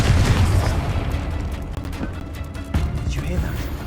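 A Confringo blasting spell explodes in the video game Hogwarts Legacy: a deep, loud boom at the start, then a rumbling tail with lighter bursts and mechanical clatter over ongoing game ambience.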